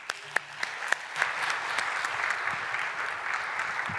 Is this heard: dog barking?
no